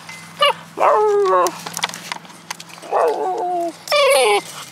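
A puppy whimpers and yips in close, high-pitched whines and short barks in several bursts, with a soft voice briefly in between.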